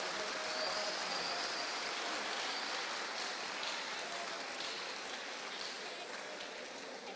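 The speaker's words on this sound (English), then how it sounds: "Let's give them a round of applause." An audience at a national public speaking competition applauds a high school team, a steady, even wash of many hands clapping from a fair distance, dense and unbroken.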